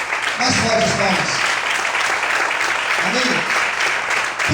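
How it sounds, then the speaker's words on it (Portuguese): A church congregation claps harder during an evening sermon, a continuous dense roar of hands with short bursts of voices rising through it. "Mais fortes palmas."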